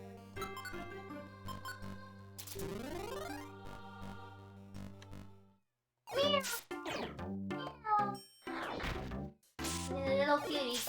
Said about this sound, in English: Little kitty cat just is saying words.